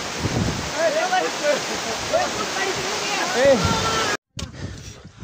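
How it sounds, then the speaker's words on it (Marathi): A waterfall on a Sahyadri fort trek roars loudly and continuously, with voices talking over it before a brief dropout near the end. "धबधबा तुम्ही बघू शकताय"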